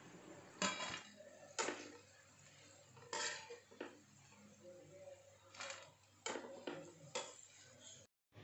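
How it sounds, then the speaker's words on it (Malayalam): Fried bitter gourd is scooped out of a pan onto a plate, giving a series of sharp metallic scrapes and clinks from a utensil against cookware, spaced out over several seconds at low volume. "ഇനി നമുക്കിത് ഒരു പ്ലേറ്റിലേക്ക് വറുത്ത് കോരി മാറ്റി വയ്ക്കാം"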